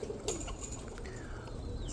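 Roller pigeons coo softly in a loft, a short, low murmuring call heard close by, with a faint flutter of wings and no talking.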